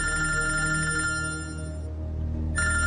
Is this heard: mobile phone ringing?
yes